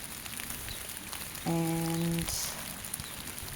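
Rain falling on a Zurich allotment garden makes a steady, soft hiss throughout, and a voice speaks briefly over it partway through.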